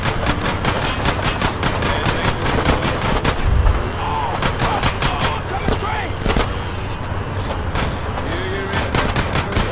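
Gunfire in GTA San Andreas HD on a phone, rapid, loud, repeated automatic bursts from close by that continue for the whole stretch, with a few heavier impacts mixed in.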